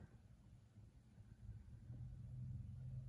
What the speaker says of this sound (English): I can hear a car approaching in the distance.